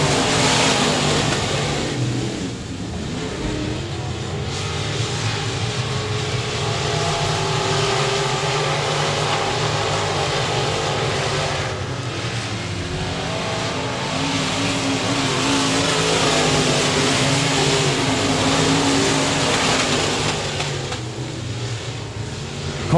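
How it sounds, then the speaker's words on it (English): Race cars roar around the oval at 67 Speedway of Texarkana, a loud, continuous engine drone with layered cars passing and revving throughout, no talk heard. "Carter swinging the car out a little too high, wide, and handsome there off the exit of turn number 2"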